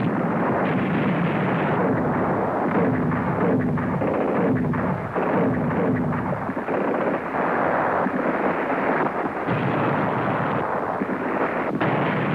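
Naval and air bombardment in archival war footage, a dense continuous rumble of explosions and artillery blasts, loud and muffled with the narrow, dull tone of old film sound.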